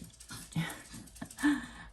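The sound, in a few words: dog panting and whimpering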